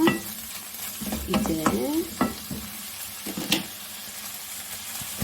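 Meat frying in a pan over fairly high heat and being stirred, a steady sizzle with several distinct scraping stirs near the start, close and clear, with one short spoken word.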